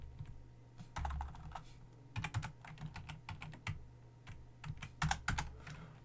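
Computer keyboard keystrokes entering commands for configuring ASA firewall interfaces, in irregular bursts of close, crisp clicks with brief pauses between runs, over a low steady hum.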